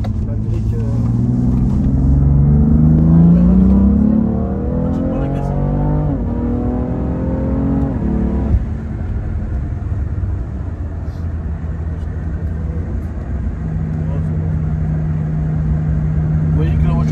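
A stage 2 tuned BMW M3 F80 with over 600 hp revs hard, its engine note climbing and pulling through gears before dropping to a lower, steady drone. The car is close and loud, and someone talks over the engine.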